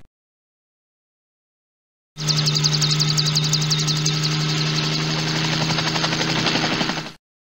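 A steady helicopter whir with a rapid rotor chop from the 1998 PC game DK My First Reading Adventure, starting abruptly after silence and holding loud and even for about five seconds before cutting off.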